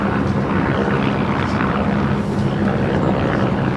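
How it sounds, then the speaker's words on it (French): A loud, steady rotor and engine roar from a helicopter passing close overhead in Paris during the 2024 Olympics, constant throughout without pause. "L'hélicoptère. Regarde."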